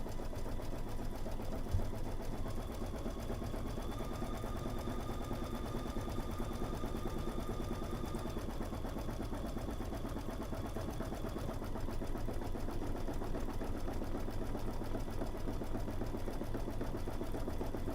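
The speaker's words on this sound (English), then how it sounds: "I am stitching out a satin stitch that is going on around my snowman right now." An embroidery machine stitching a satin stitch around a snowman appliqué, a steady rapid mechanical chatter that runs close and unbroken throughout, with no talk.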